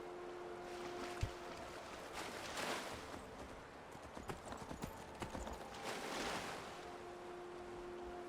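Horse hooves in the video game Skyrim clop in a steady, continuous rhythm over a washy ambient game soundscape, with no voices.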